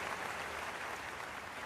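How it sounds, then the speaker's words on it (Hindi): Thunderous audience applause at a literary stage event fills the space as a dense, even wash of clapping, steady and somewhat distant without any voices over it. "ये जो तालियों की गड़गड़ाहट है"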